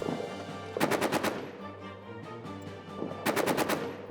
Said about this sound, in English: now they're under machine gun fire